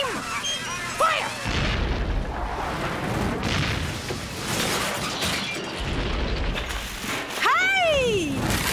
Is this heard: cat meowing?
no